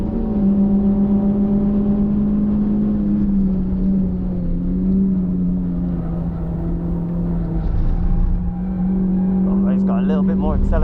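A Renault Clio race car's engine holds a loud, steady in-cabin drone with slight pitch shifts through gear changes around Donington Park national circuit, another car audible nearby and a voice briefly over it near the end.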